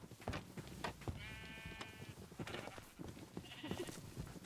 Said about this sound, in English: Now I'm stuck with the sheep for a little bit until I can rebrace myself.